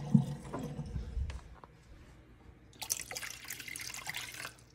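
Water is poured from a tap into a pot for Top Ramen noodles. A low rumbling start gives way to a steady, bright rushing stream that runs close and fairly loud until the end.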